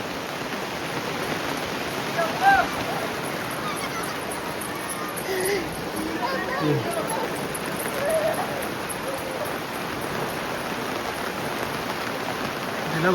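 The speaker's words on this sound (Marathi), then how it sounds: "पाऊस आलाय जोरात." Heavy unseasonal rain in a Konkan village pours down as a dense, steady hiss on surfaces, with faint voices and small knocks now and then.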